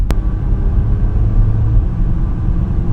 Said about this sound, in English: I like the gear shift noise, and just the fact that you can hear the car rather than it being completely silent like in my car